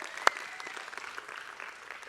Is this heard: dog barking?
no